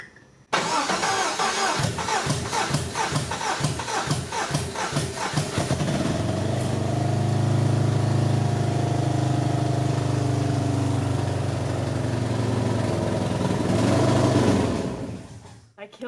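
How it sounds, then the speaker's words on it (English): An LS-swapped Datsun 280Z cranks with a rapid rhythmic churning of the starter for about five seconds, then fires and settles into a loud, rough, steady idle close by, with people talking faintly nearby. "Completely closed. It's gonna crank."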